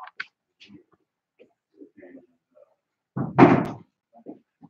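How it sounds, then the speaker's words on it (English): An office door swings shut with a single loud thud, standing out near and alone between faint scattered room noises and soft movement. "Let me just close his door."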